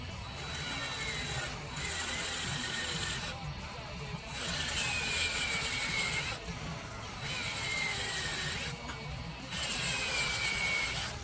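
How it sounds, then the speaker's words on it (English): A random orbital sander fitted with 320-grit mesh abrasive sands the back of a Mockingbird-style guitar body, a loud steady whir with a rubbing hiss that pauses briefly several times, alone with no talk. "So I tried this mesh abrasive on the random orbital sander on a 320 on the back"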